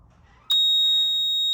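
An LD32 water leak alarm panel in an office block goes into alarm during a zone 1 test, giving a loud, steady high-pitched electronic tone that starts abruptly and holds continuously.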